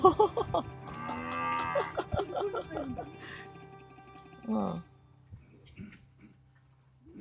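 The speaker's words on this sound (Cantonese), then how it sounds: "開始餵牛嘅話，哇，睇下好多牛仔過嚟啦" Cattle and calves on a farm near Hakodate, Japan, moo loudly and repeatedly at close range as feeding begins, with a long low call followed by shorter ones and a final moo, while people talk nearby.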